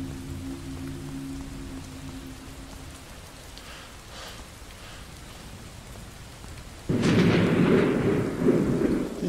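Video game thunderstorm: a low hum gives way to a loud, sudden rumbling crack of thunder with a rushing roll that continues to the end, no voices.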